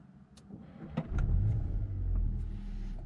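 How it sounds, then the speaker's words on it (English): A 2022 Cupra Formentor VZ starts up nearby: a few soft clicks, then the engine catches with a rising low rumble and settles into a steady, close idle. "I have to start the car first."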